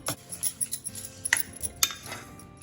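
A metal spoon scrapes and clinks against a pan while stirring melted jaggery, giving irregular close taps and rubbing strokes with a couple of sharper clinks.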